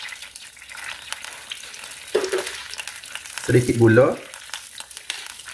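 Bihun goreng rice noodles frying in a pan, a soft sizzle running throughout with scraping stirs, and someone speaking briefly over it.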